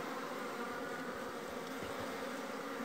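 Dense, steady buzzing of many bees around a honeycomb of hard honey being cut with a knife, close and continuous without a break, with no talking.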